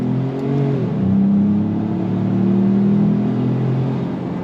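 A 2025 Ford Maverick Lobo truck accelerates hard on throttle, its engine note climbing steadily and loud and close over about four seconds, with no voices.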